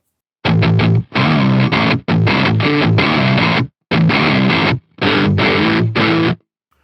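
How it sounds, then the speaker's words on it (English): Gritty, crunchy guitar chords through a Sonicake Wave Crush bitcrusher pedal in choppy bursts with brief gaps between them, sounding harsh and lo-fi as if digitally degraded. "Then put a little bit of crush in there."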